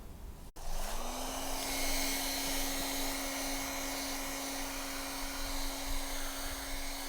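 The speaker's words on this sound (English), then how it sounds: "I'm going to have a go at heating the mirror up using this paint like stripping gun." A paint-stripping heat gun on a low setting warms a loose VW Audi Group door mirror glass, starting with a click and then blowing with a steady fan whine and airy hiss close by.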